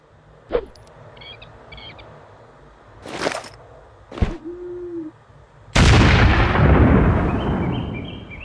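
An explosion in the shooter game Hidden & Dangerous Deluxe: a loud, sudden blast that roars on and slowly fades, after several sharp shots and pops and a brief tone.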